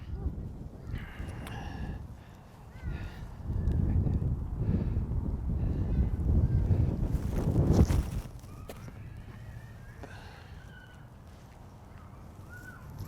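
Wind gusting outdoors on a disc golf course, a steady low rumble that swells loudly mid-clip, peaks around eight seconds, then eases to a softer breeze, with faint birds in the distance.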